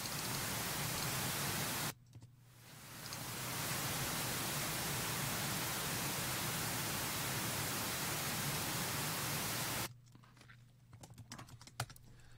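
Steady pink noise test signal for tuning an audio system, playing as a loud, even hiss that drops out briefly near the start and again near the end, leaving only faint room noise.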